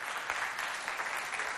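A school audience claps loudly for visiting pupils at a quiz-show recording, a dense, even burst of many hands lasting under two seconds.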